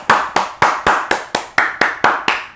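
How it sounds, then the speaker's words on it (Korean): About ten sharp, loud hand claps ring out one at a time in a steady, even beat, close up and alone with no voices. "박수를 일단 쳐요"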